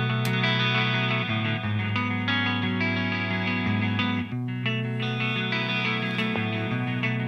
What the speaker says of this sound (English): So we just heard the clean and distortion channels alone